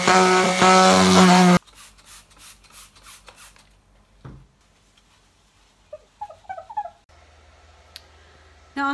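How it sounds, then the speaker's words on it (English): A Harbor Freight palm sander buzzes loudly on wood for a moment and then stops, followed by quiet handling clicks and light knocks. "This is just your everyday average Harbor Freight palm sander."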